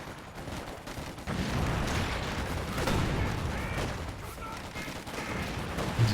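Engineer squads trade small-arms fire in Company of Heroes 2, a dense, continuous crackle of rapid shots that stays close and loud throughout, with a few heavier thumps.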